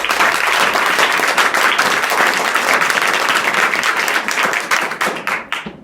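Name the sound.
students clapping loudly for themselves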